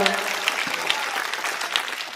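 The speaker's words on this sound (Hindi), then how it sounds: "बजाओ ताली" Dense, steady clapping from a seated audience at a Hindi comic poetry gathering fills the whole stretch, with a brief voice near the start.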